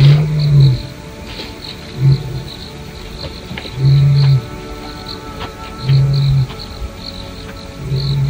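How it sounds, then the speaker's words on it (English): Lion roaring at night in the southern Kgalagadi desert of Botswana, a series of deep, repeated grunting roars at a distance over a constant chorus of crickets and insects, with no talk. "We heard a lion again."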